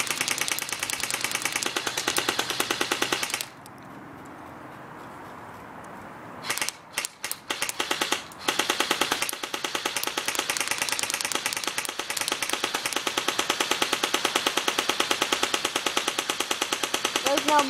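A Pulse R72 gun fires rounds into a pumpkin, a dense, rapid mechanical rattling burst that stops briefly and then resumes as a long, steady stream of fast repeated impacts.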